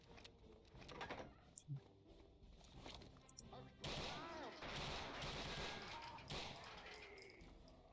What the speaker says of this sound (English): another MG42 machine gun